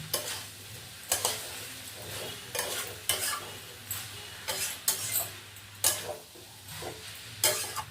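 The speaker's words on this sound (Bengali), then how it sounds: "এবারে আমি এটাকে নাড়িয়ে দেবো।" Prawn mocha curry is stirred in a frying pan, giving a regular series of scraping, sizzling strokes about once a second, close and fairly loud, with no talking.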